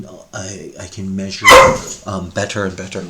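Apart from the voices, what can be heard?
pet dog barking at home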